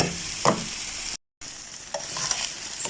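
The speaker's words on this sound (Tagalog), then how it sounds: "So, stir fry lang yung ginawa natin." Leftover chicken being stir-fried in a pan, with a steady close sizzle and scraping stirs from a utensil around one second and near the end, broken by a brief silent gap.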